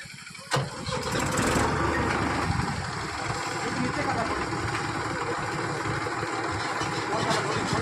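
A tractor engine cranks and catches with a sharp burst, then settles into a steady, rough, moderately loud idle that continues to the end.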